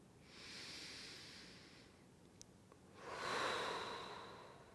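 Deep breathing during restorative yoga: one long slow inhale, a short pause, then a fuller exhale, soft and close with a breathy hiss and no talking.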